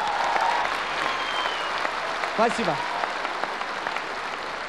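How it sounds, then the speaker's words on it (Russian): Crowd applause for a ten-year-old performer at a 1997 KVN comedy contest, sustained clapping from a large hall with a voice speaking briefly over it and a short whistle-like sweep in the middle. "И специальные аплодисменты."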